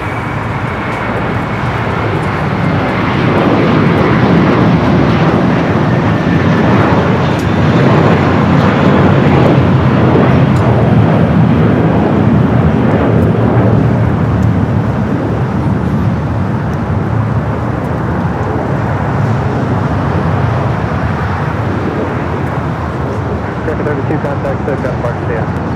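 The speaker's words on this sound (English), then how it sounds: "We got that Queen of Western Global now starting its taxi down Alpha, heading down to the 25s." A Western Global aircraft taxiing down taxiway Alpha at LAX toward the 25 runways produces a steady, loud engine roar that holds throughout, with a voice talking over it.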